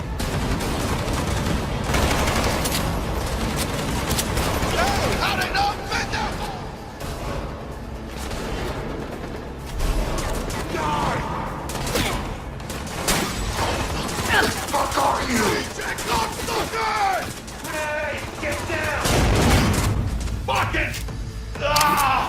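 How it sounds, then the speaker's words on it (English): Rapid gunfire and impacts from the video game Cyberpunk 2077, with bursts of shots and thuds mixed under ongoing talk and game sound effects. "This allows players to bounce bullets off walls and hit enemies hiding behind cover."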